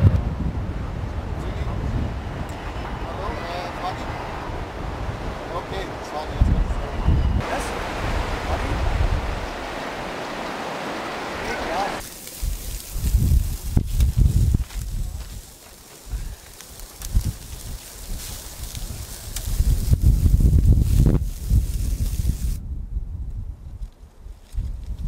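Wind blowing outdoors in Kurdistan, gusty buffeting across the microphone with low rumbling surges that rise and fall, loud and close, with breaks where the rush shifts character.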